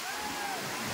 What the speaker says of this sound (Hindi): मुझे झरना दिख रहा है